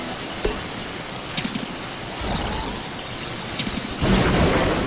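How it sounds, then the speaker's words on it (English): Lightning storm in the game Don't Starve, with rain hissing steadily and crackling thunder strikes breaking in, the loudest burst swelling near the end. "Yeah, lightning again."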